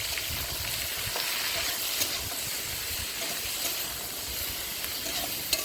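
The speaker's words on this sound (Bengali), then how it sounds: "ভাজা হয়ে গেছে, পেঁয়াজটা দিয়ে দিলাম, টমেটো কাঁচা লঙ্কা সব দিয়ে দিচ্ছি।" Onion, tomato and green chili fry in a pan outdoors in stormy, windy weather, giving a steady close sizzle with occasional sharp crackles and stirring scrapes, no talk.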